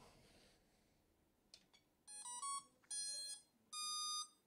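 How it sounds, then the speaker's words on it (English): Electronic power-up beeps from the motor of an AtomRC Dolphin RC airplane: a quick chirp, then three loud sustained tonal beeps in even sequence, close by and alone over a faint background hiss. "Okay, motor beeped."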